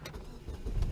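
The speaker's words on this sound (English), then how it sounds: "Go ahead and turn on the car." A car engine, fitted with an electronic fake turbo blow-off valve, turns over and catches in a brief, rumbling low burst that swells toward the end, heard close with no talking.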